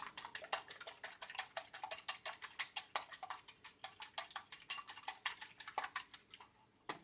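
A whisk beats eggs and milk in a bowl in fast, even clicking strokes, a close rhythmic tapping that runs steadily then stops near the end.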